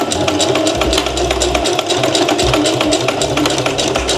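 A domestic sewing machine runs in short bursts while backstitching a dress strap, its needle chattering in a fast, steady rhythm with brief pauses between runs, close and loud with no voices.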